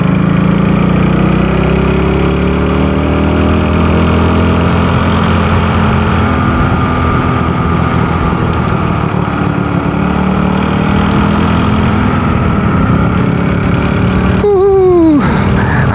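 A self-built motorcycle's engine runs continuously on the Cangar mountain road before dawn, a loud, close, steady drone with a rough low rumble throughout and a brief higher whine near the end.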